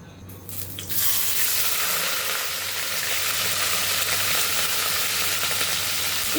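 Paneer fries in a spoonful of ghee in a hot kadai, giving a loud, dense sizzle that surges in after a brief softer start and then holds steady and close to the end.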